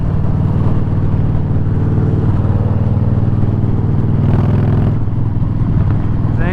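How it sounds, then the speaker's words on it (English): A motorcycle engine runs steadily throughout a ride on a warm day, with a loud, continuous low rumble and a dense harmonic drone that shifts slightly in pitch near the end. No one speaks. "bike's running great"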